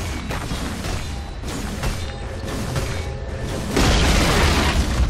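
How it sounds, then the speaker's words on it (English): A middle tower in Dota 2 is destroyed, with dense rumbling booms and crashing impacts layered over continuous game audio and swelling louder near the end. "Radiant's middle tower has fallen."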